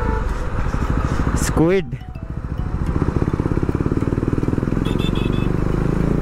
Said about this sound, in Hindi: ओ भाई मेरे सामने से पूरा फ्लाई बाय देके निकला है ये